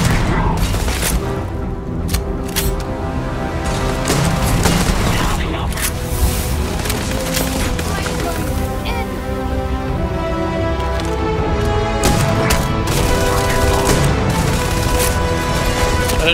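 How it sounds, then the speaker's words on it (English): Shotgun fire in the Starfield video game: several loud, sharp booming blasts spaced irregularly over a dense background of game sound and music, with another burst of shots near the end. "Shotgun in here."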